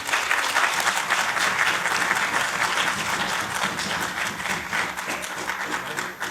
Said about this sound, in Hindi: आप सभी की जो तालियां हैं ये हमारे सारे कार्यकर्ता तक पहुंचेगी